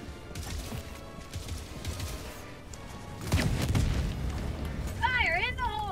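Napalm strike in Helldivers 2 erupting into heavy booming explosions that swell louder midway, a dense rumbling roar with battle noise and a whistling tone near the end.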